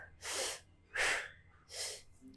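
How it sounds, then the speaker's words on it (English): Three forceful, sharp exhaled power breaths during a deep core bracing exercise, each a loud breathy burst of about half a second, evenly spaced and close up in a quiet room. "We're gonna do those 10 power breaths"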